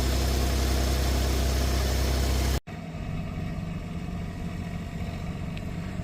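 An engine idles low before plowing, a steady mid-pitched rumble that cuts out abruptly partway through, then resumes as a quieter, even idle.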